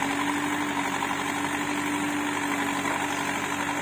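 An Eicher 485 tractor engine drones steadily at close range while hauling a loaded 11-foot trolley, a continuous low hum with a constant mid tone and no pauses.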